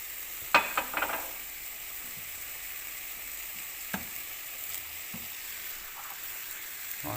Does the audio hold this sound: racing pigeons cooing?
no